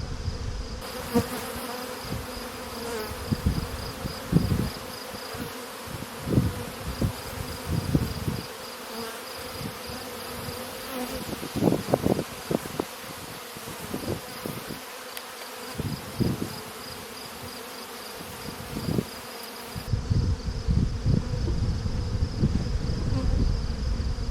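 Honeybees buzzing steadily around an open hive during an inspection, a dense continuous drone with louder passes as individual bees fly close by, heard alone without talk.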